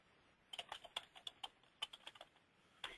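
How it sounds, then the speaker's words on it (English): Typing on a computer keyboard into a software search box, a quick run of light, crisp key clicks in two short bursts with a brief pause between, close and fairly quiet with no talking. "So I'm typing it in the search box since it wasn't on my navigation pane."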